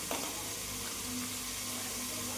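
Garlic and ginger fry in a pan with a steady, dense sizzle that holds evenly throughout, fairly quiet and close, with no talking.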